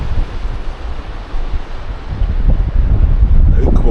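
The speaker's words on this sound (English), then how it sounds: "Yeah, wind is getting up." Strong wind buffets the microphone on a beach at Famara, Lanzarote, a steady broadband roar that swells louder toward the end, with low rumbling gusts and no clear talk.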